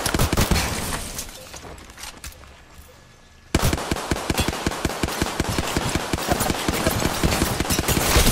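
Automatic gunfire in the Apex Legends battle royale game, with rapid bursts of sharp, close shots, a brief fading lull, and then a sustained loud stream of rounds.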